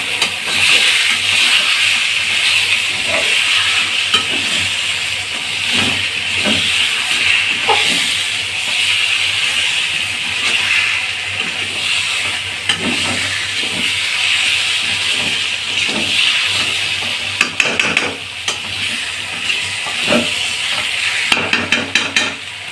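Jackfruit curry stir-frying in a pan, a loud continuous sizzle and hiss with repeated knocks and scrapes of a spatula against the pan, close up, with no talking.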